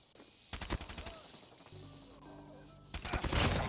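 Rapid bursts of automatic gunfire from Call of Duty Mobile gameplay come in two volleys separated by a short tonal game sound. The shots are close and loud.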